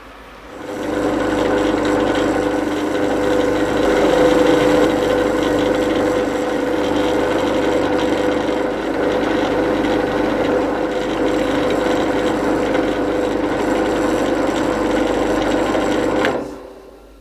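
Steady rubbing of micro mesh polishing a wood and resin pendant, a continuous near whirring-scrubbing sound that holds evenly for about fifteen seconds, then stops abruptly.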